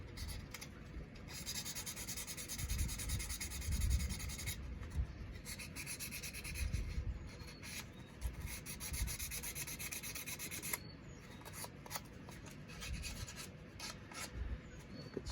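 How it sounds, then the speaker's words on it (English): Steady rasping scuffs as a rusty Schrade pocket knife blade is rubbed clean along its edge, continuous abrasive strokes close to the listener with no talk. "Scuff that on the edge so it'll look decent here"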